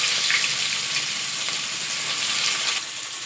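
Garlic dropped into a hot cumin and mustard seed tempering sizzles loudly and continuously, a close, bright frying hiss that holds steady and eases slightly at the end.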